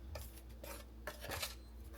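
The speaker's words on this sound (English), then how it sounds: "Just mix it a little so all the seasoning can be all up in here" Seasoning and flour are stirred together in a bowl in a home kitchen, a soft, faint scraping and rubbing of a utensil in short strokes, with light clinks against the bowl.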